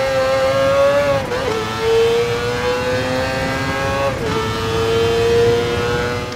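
A car engine from the Gran Turismo sound-capture project revs loudly and steadily, its pitch sliding down twice in smooth drops, close up with no talk.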